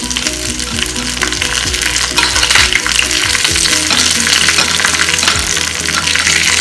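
Curry leaves are stirred into a sizzling king fish curry base in a pan. The frying hisses loudly and continuously, and a spoon scrapes and clacks against the pan in repeated close strokes.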